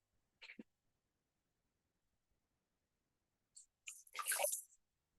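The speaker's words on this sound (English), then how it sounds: "At this point, we can rinse our feet." Feet rinsed in a bucket of water during a footsoak, two brief, soft wet splashes and squishes separated by silence, the second longer and louder, with no talk.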